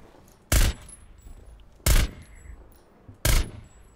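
Three loud single gunshots in Rainbow Six Siege, evenly spaced about a second and a half apart, each a sharp crack with a brief tail, standing out against quiet game ambience with no talking.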